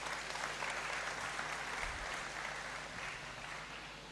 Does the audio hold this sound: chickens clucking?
no